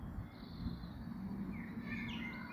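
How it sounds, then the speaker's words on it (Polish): Birds chirping in the distance in Nottingham, several short high calls scattered over a steady low background rumble. "Słychać ptaki."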